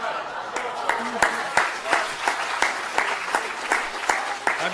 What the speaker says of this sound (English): I should have said, hold your applause.